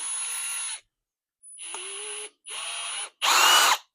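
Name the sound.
power drill spinning an axle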